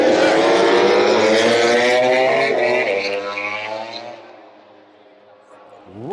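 A MotoGP racing motorcycle roars past at Jerez during race day, a loud, high-pitched engine whine that rises, holds, then fades away as it passes, followed by near quiet and the start of another approaching bike.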